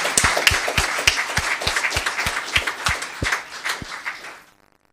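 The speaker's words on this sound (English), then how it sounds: "One more round of applause for this special man." A crowd at a Los Gatos town council meeting applauds with steady, evenly paced clapping for about four seconds, then fades out.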